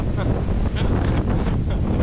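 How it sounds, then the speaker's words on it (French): Strong wind buffets the microphone outdoors during a run, a loud, steady roar with gusting rumble and no clear talk. "Il y a un vent."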